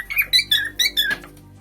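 A pet cockatiel calls in a rainy season setting with a quick run of five or six loud, close, shrill squeaky chirps, each rising and falling, then a fading tail.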